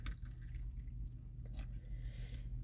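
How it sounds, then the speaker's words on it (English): Water trickles and drips into damp potting soil around a rooted cutting in a pot, faint and close, with soft wet squishing sounds and a low background hum. "So I'm going to go ahead and put water."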